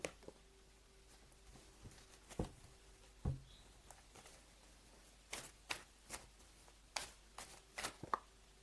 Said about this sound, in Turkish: kartlar fırladı resmen arkadaşlar